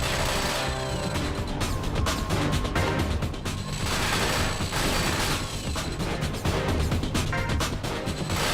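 Turret gunfire in the mecha video game Front Mission 5, a dense continuous barrage of loud mechanical shots and crashes running throughout without pause.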